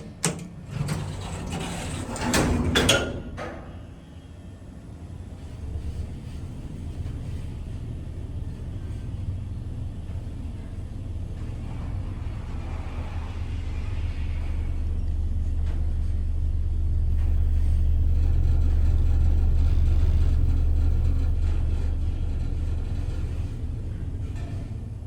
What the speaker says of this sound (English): Listen to that motor buzzing.